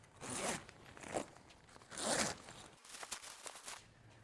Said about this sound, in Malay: dari connector ke kemah B, kita akan masukkan dia punya zip